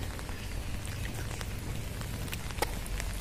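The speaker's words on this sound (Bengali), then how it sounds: "সকাল সকাল বৃষ্টি পড়তেছে, এখন হচ্ছে হালকা পাতলা পড়তেছে" Light morning rain pattering steadily on surfaces outdoors, a soft continuous patter with a few sharper drops, no voices present.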